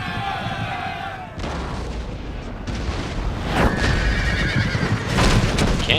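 Cannon fire booming against cavalry in the battle game Empire: Total War, with horses neighing and whinnying amid repeated artillery blasts and battle din, loud and close.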